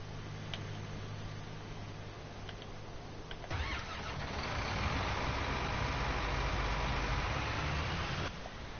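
A tractor engine in Farming Simulator 2019 idles with a low hum, then revs up into a louder, steady engine drone that holds for several seconds before dropping back down. There are no voices.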